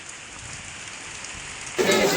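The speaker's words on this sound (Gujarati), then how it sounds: "વાવાઝોડા હારે વરસાદ ફૂલે ફૂલ પાછો ચાલુ થઈ ગયો છે." Heavy unseasonal rain pours down in the Gir region as a storm passes, a steady dense hiss of drops on surfaces that swells noticeably louder near the end.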